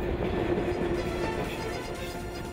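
The Trans-Siberian train rolls along its rails, a steady, moderately quiet rumble with faint wheel clatter throughout and no voices.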